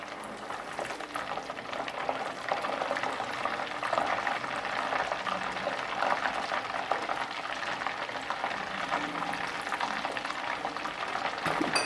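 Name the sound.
water sizzling when sprinkled into nearly finished ghee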